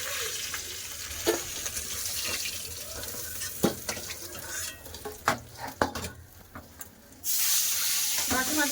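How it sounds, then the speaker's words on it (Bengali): Fish frying in mustard oil in a home kitchen sizzles in a steady hiss, broken by scattered sharp clinks and scraping as pieces are turned, then a louder, denser crackle near the end. "এটা মাছ ভাজাচ্ছে"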